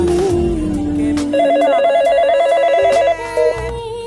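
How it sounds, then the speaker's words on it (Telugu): A telephone ringtone plays loudly and close, a repeating electronic melody that cuts off near the end. "ఫోన్ రింగ్ అవుతుంది, వెళ్ళు"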